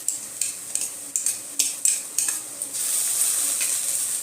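Onion frying with ginger-garlic paste in a pan for aloo dum biryani: a steady hiss of sizzling under repeated scraping stirs of a utensil against the pan, settling into continuous frying near the end.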